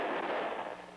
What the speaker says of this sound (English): The last scene shows a close-up of another application of water to the sodium fire.